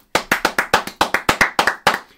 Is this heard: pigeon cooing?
no